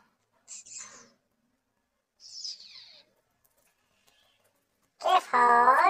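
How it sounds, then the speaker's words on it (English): A kingfisher call comes as two short, high, rattling bursts separated by silence, followed by a voice at the end. "kingfisher."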